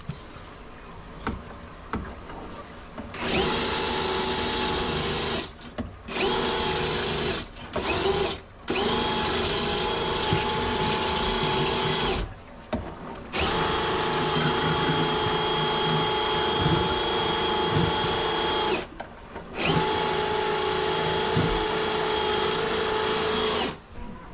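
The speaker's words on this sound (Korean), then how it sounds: "샤프트 플렉스 장비를 사용하여 배관을 스케일링 해줍니다." A shaft flex drain machine scales the inside of a blocked sink drain pipe, a loud, steady mechanical whirring and rattling that runs in long bursts and is broken by several brief stops.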